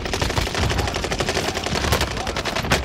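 Rapid video-game gunfire: dense, continuous bursts of machine-gun shots, loud and close throughout the short stretch.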